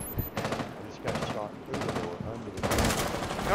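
Rainbow Six Siege gunfire comes in four separate bursts of rapid automatic shots, each lasting a fraction of a second, loud and close with brief pauses between them.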